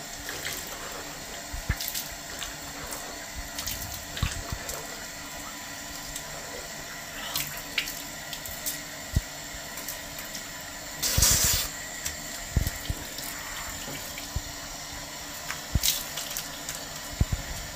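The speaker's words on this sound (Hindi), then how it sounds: "अब देखिए, आप हाथ धो लीजिए, अच्छे तरीके से हाथ धो लीजिए।" A tap runs into a wash basin while hands are washed during wudu, a steady close hiss of water with splashes and rubbing, no speech.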